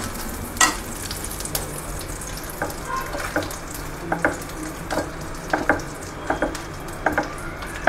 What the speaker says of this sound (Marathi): ते फुगूस तोपर्यंत तळायला लागतं.